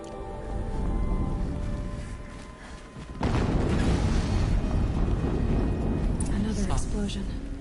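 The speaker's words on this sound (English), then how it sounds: "Another explosion." In Horizon Zero Dawn, a game explosion bursts in with a sudden rumbling blast partway through and leaves a sustained loud roar, following a quieter stretch of game noise, with voices present.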